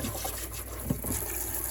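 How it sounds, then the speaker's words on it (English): Periwinkles rinsed under running water in a kitchen sink, a steady close trickle and splash with faint clatter of shells, no talking. "so I'm just gonna rinse these guys off"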